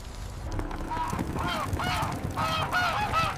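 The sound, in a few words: geese honking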